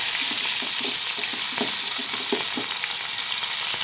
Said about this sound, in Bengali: তেলটা হালকা গরম হয়ে গেলে এটা একটু আদা বাটা দেবো, সাথে একটু টমেটো দিয়ে দেবো